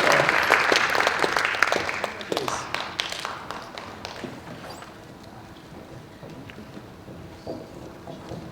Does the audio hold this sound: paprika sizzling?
no